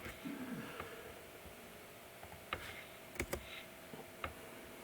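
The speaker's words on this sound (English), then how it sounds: "now what we can do is we can type in here other commands" Someone types a command on a computer keyboard, producing sparse, irregular key clicks, a few sharper taps standing out, fairly quiet and close over a soft background hum.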